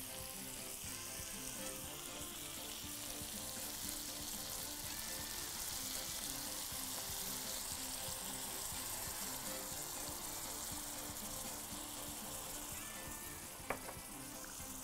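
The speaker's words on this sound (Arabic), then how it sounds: "دلوقتي بقى هنزود المرقة" Broth poured into a pan of sausage and eggs for a sandwich sets off a steady, loud sizzle and frying hiss that runs continuously, with a faint clink near the end.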